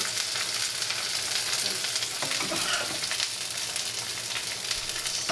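Vietnamese bánh xèo pancake with bean sprouts sizzling in a hot pan, a loud, continuous crackling fry that stays steady throughout with no voices.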